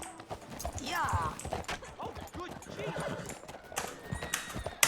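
A horse in the Red Dead Redemption 2 video game gallops with rhythmic hoof clip-clops and lets out a whinny, while a player's voice talks and urges the horse on over the game sounds.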